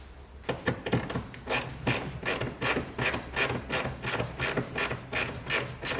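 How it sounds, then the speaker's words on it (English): A ratchet screwdriver turns a screw during a custom audio system install in a 2020 Porsche 911 Turbo S, giving a steady rhythmic series of close clicking ratchet strokes. "I'll put it on a ratchet screwdriver just so that."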